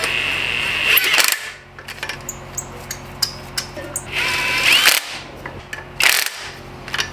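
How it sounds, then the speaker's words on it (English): Short mechanical bursts from a power tool tightening turbo manifold bolts on a Nissan GTR engine in a garage, with pauses and clicks between bursts. "now I just need to get the manifold bolts tightened and torqued"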